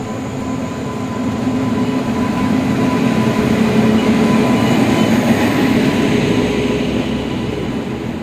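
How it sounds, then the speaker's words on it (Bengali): An express passenger train rolls into a station, a loud, sustained rumble of wheels and carriages that builds and holds steady, with a faint high whine over it. "আমাদের ট্রেন চলে এসেছে।"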